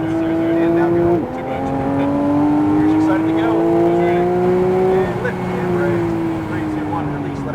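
Porsche 992 GT3 accelerating hard on a race track, its engine note climbing steadily through the gears with a sharp dip at each upshift, loud and close throughout, with a voice faintly underneath.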